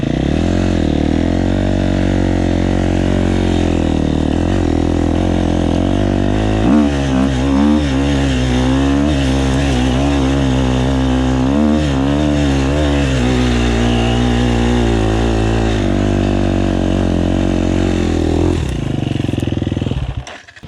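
Motorcycle engine revving loudly and steadily for about twenty seconds, the throttle opening wider midway to a higher, rougher pitch before cutting off at the end.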